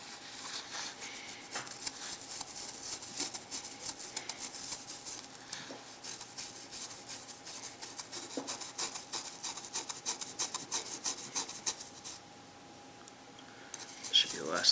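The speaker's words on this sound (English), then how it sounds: "kind of rub around the edges here" Electrician's tape being rubbed down by fingertip along its edges onto foil, a steady close scratchy rasp of quick repeated strokes, faint and dry, fading to quiet near the end.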